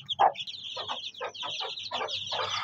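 A hen with ten-day-old chicks gives a close series of short, rhythmic clucks, about eight pulses in quick succession with no talking.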